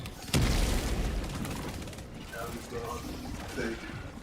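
A grenade goes off in the shooter game Helldivers 2, one sharp loud blast that decays into a rumbling tail, with mechanical clanks and gear-like rattles afterward; no speech.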